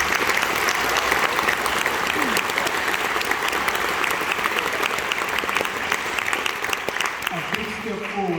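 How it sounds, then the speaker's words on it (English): Sustained applause from a large audience at a speech about character and a dream, dense clapping that stays steady and loud throughout, with a voice starting to speak near the end. "Everybody give yourselves a round of applause for what you seek to do."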